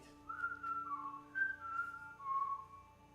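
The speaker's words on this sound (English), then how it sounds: "Can you whistle back?" A faint human whistle rises and falls as a few sustained, wavering notes over a quiet background hum, with no talking.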